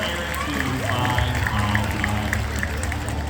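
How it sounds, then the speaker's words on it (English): An audience at the Six Flags Discovery Kingdom sea lion show in Sea Lion Stadium cheers and applauds continuously, a dense wash of clapping and crowd noise with voices mixed in throughout. "Everyone give him a big cheer."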